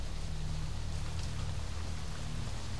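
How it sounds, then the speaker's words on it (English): Rain falls steadily in the S.T.A.L.K.E.R. Anomaly video game, a continuous even hiss of rainfall with a low rumble beneath it and nothing else heard. "you're going to hear that the internal weather is still raining"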